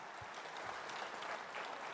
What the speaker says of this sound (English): let's have a round of applause for what he did on that national anthem